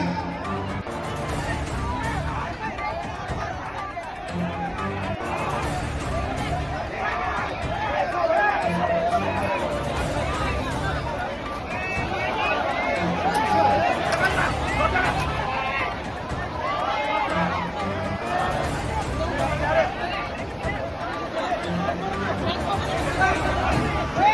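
A rowdy crowd of young men at a Radha Patil dance show roars and shouts in a loud, continuous babble, with voices up close over the din.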